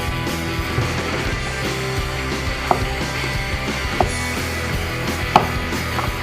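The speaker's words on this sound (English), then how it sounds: "cut one more 1/4 inch thick rectangles, strips on all of these big cubes" A knife slices cubes of squash into quarter-inch strips on a cutting board, soft steady cutting with a few sharper clicks of the blade hitting the board, close up.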